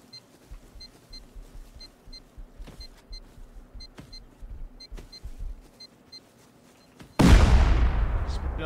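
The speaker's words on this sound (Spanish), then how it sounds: "Explosión, adrenalina, dinamita." Sparse clicks and muffled pops give way to a sudden loud blast that decays into a roaring rumble, a dynamite explosion in a video game.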